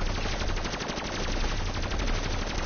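Rapid fire from a fireworks weapon mowing down zombies in a PS4 game: a loud, continuous rattle of evenly spaced bursts with no pause and no voices.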